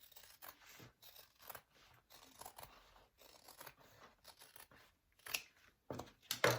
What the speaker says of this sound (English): Okay, I'm gonna trim my pocket.